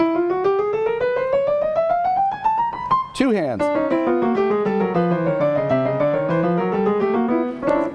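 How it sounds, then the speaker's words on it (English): A chromatic scale played on piano, running up the keys in steady even notes, a brief glissando sweep, then notes moving down and back up, bright and close with a few words spoken briefly. "If you play all 12 of them, that's called a chromatic scale."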